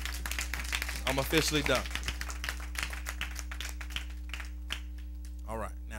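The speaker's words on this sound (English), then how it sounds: "Can we give God a hand clap?" A church congregation gives a hand clap after a sermon, a brief patter of claps rising under the preacher's amplified voice before he keeps talking over a steady low hum.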